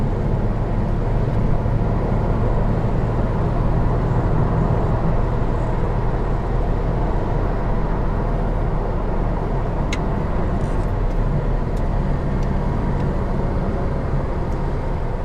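Loud, steady drone of a 1973 BMW 3.0 CSi's straight-six engine heard from inside while driving, a smooth low hum with road noise and no talking.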